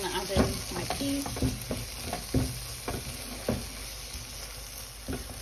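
Peas tipped into bubbling, sizzling masala for mattar paneer and stirred, with the spoon knocking against the pan in irregular taps over a steady frying hiss, close up and without speech.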